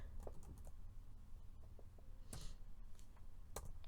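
Code is typed on a computer keyboard in a quiet room: sparse, soft keystrokes at an uneven pace with a couple of sharper clacks, over a low steady hum.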